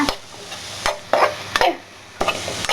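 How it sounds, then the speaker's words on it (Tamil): A spoon stirs spiced masala for masala idly in a pan, scraping in several separate strokes over a light sizzle, close and clear with no talking. "இப்போ நல்லா வந்து அதை வதக்கிக்கோங்க."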